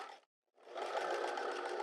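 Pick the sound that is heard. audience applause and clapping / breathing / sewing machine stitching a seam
sewing machine stitching a seam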